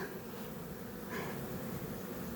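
Honeybees buzzing at a multi-storey beehive whose queen has come out with a swarm, a dense continuous hum that stays close and steady throughout with no speech.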